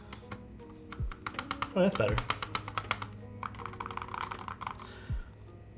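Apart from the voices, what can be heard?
typing on Holy60 keyboard with metal keycaps and ABS spacebar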